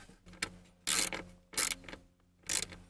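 A nut is run back onto a GM vehicle's ground wire while a wireless phone charging kit is installed: three short, raspy ratcheting bursts with brief metallic ticks between them, close up, with no talk.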